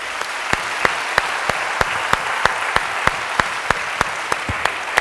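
Audience applause at the San Patrignano 2014 closing ceremony: a dense wash of clapping from a large crowd, punctuated by a regular rhythmic beat of sharper synchronized claps, sustained and fairly loud throughout.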